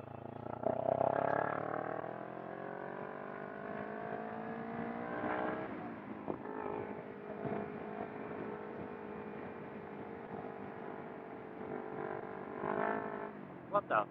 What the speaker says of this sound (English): this bike sounds so much better with the exhaust on it